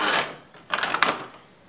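A new replacement door hinge for a Hummer H1 slides into place with a short burst of close metallic rubbing and scraping, loud at first, then a quieter pause before a second cluster of grating clicks.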